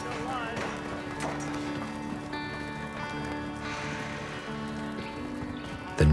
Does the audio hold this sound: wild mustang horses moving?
yes